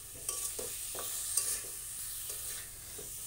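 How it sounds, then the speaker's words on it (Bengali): Garlic stir-fried in a pan gives a soft sizzle with rhythmic scraping strokes of a spatula every half second or so, quiet and close, no voices. "এবার আমি রসুনটা বেশ ভালোভাবে কষিয়ে নেবো এরকম।"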